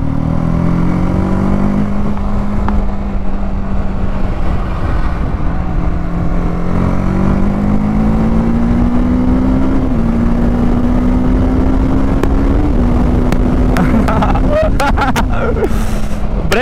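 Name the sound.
TVS Apache RTR 310 motorcycle accelerating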